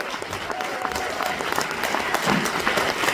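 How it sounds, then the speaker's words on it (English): A concert crowd applauds steadily as a woman steps onto the stage, dense continuous clapping with murmuring and faint voices mixed in, fairly loud throughout. "Give her a huge round of applause."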